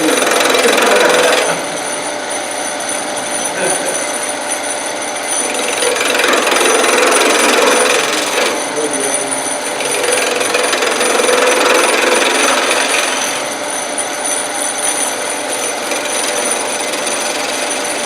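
Woodturning tool cutting a wooden snowman on a lathe, making a loud, steady grinding buzz that swells and eases in several passes over the spinning wood.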